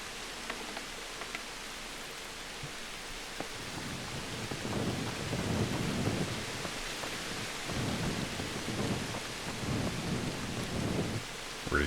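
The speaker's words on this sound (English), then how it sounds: "It's really raining out here." Steady heavy rain hisses throughout while low thunder rumbles and swells in several slow waves, in the video game Kingdom Come: Deliverance.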